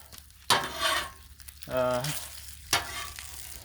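Eggs fry on a Blackstone flat-top griddle with a soft, steady sizzle. Sharp scraping bursts from a spatula come through, and a brief vocal sound rises in the middle.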